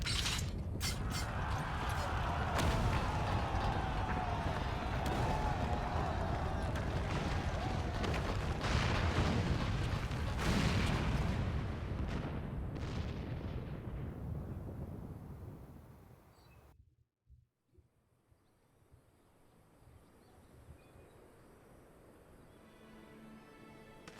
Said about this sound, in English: It must have been the cannon at Castrum, Albania.